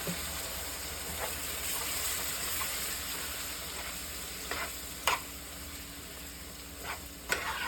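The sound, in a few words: balsamic vinegar added to sizzling chicken in pan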